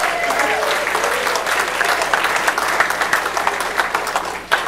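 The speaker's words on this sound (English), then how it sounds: "Round of applause." A crowd claps in a lively burst of applause at a presentation about football coach Woody Hayes, dense and continuous throughout.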